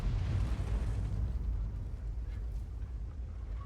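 Tank cannon blast and rumbling engine in a World of Tanks style game, a deep continuous boom-heavy roar with low-end rumble filling the whole stretch, loud and close, no talking.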